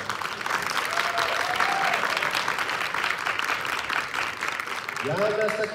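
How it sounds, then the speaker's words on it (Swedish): A crowd applauds at a wushu competition award ceremony, loud continuous clapping filling the hall with voices faintly mixed in underneath. "Och en stor applåd till alla."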